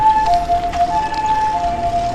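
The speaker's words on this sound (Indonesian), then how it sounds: "Duh, ada ambulan guys." A wailing ambulance siren sounds at a steady middle distance in rural Japan, its pitch stepping between two tones over constant background noise.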